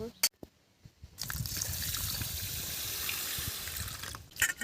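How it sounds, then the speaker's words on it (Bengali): Water poured from a vessel into a kadai set on the stove to heat for cooking dal with bottle gourd, a steady rushing, splashing stream lasting about three seconds, framed by brief clatters of the pan before and after. "দিয়ে কড়া বসিয়ে দিয়ে একটু জল ঢেলে দিচ্ছি"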